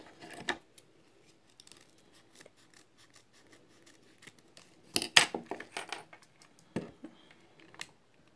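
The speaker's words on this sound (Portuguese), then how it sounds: "Vou cortar." Scissors snip through material for a handmade fabric hair bow, giving scattered faint clicks at first, then a cluster of sharp, close cuts near the middle and a final snip, with no talk.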